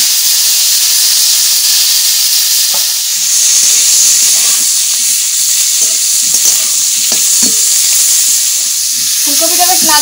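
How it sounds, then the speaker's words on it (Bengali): Cauliflower pieces fry loudly in salted mustard oil in a village kitchen, with an intense, steady sizzle and hiss close up. Occasional stirring scrapes and clicks cut through, with a brief clatter near the end. "এবার ফুলকপিগুলো ভেজে নেব।"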